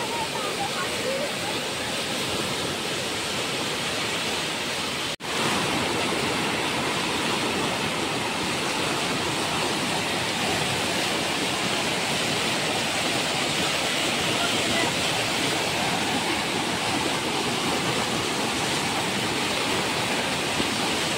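A flooded river rushes steadily for the whole stretch, a loud, dense roar of churning water with no let-up and one brief dip near the start.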